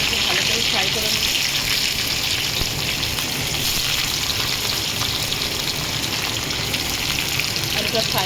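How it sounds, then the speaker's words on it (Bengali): Diced potatoes fry in hot oil with cumin seeds, a dense continuous crackle and hiss filling the whole stretch at close range. "আলুটা ফ্রাই করে ফিরছি"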